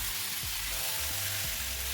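Four pre-fried potatoes sizzle in a kadai as a steady hiss, with a few soft stirring scrapes and no talking.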